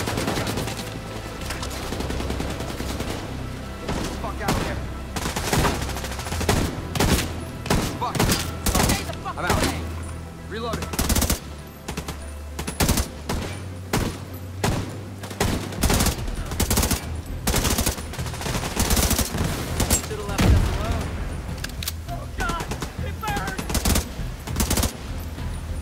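Dense automatic and burst gunfire from a firefight in Tom Clancy's The Division 2, with shots cracking almost continuously and near, layered over low rumbling and shouted voices throughout.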